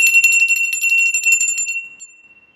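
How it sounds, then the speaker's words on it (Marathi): A hand bell is rung during a Navratri puja, rapid metallic ringing strokes for about a second and a half, then a clear sustained tone fading out, close and loud with no talking. "आणि घंटी वाजवून घ्यायची"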